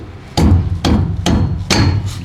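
Four heavy hammer blows land at a steady, unhurried pace, each a loud metallic clang with a brief ring. No voices are heard.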